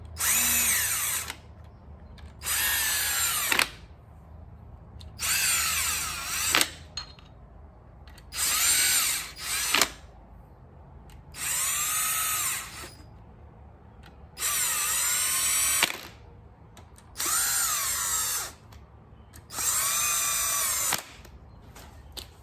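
A power tool zips rod bolts into an Audi 2.0 TFSI engine during a piston and rod rebuild, with eight loud, evenly spaced whirring bursts of one to two seconds each, separated by short quiet gaps.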